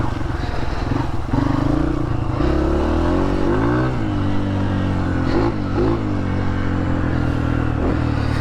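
Dirt bike engine running while ridden, a steady loud drone with rising and falling pitch as the throttle changes, continuous and close throughout.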